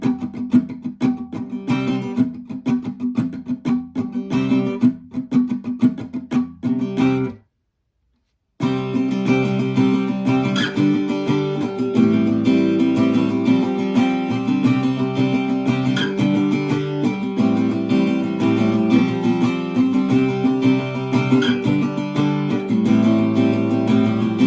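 A guitar plays through chorus 3 of a song in the Old Phone Pub arrangement, a full continuous run of chords that breaks off into a second of silence early on, then carries on strongly to the end.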